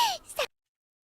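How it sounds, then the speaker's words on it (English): A short, breathy gasp from a character in the Cardcaptor Sakura anime, voiced as two quick sliding breaths that end abruptly in silence. "Ooh, another gasping sound"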